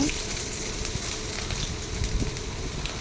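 Curry leaves frying in hot oil in a home kitchen, a steady soft sizzle and crackle lasting the whole moment with a couple of brief pops.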